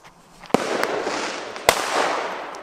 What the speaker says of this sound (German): Ja, der hat schon gut geknallt.